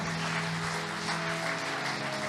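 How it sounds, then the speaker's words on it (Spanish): A church congregation applauding during a Spanish-language service, with dense, continuous clapping over a low sustained musical hum, moderately loud and unbroken throughout. "Dale un aplauso al Señor."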